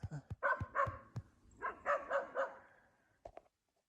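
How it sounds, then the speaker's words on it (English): Dog named Yeti barking in a rapid series of sharp, fairly close barks at night in the mountains, a pause, then another cluster of barks before falling quiet. "What's she barking at?"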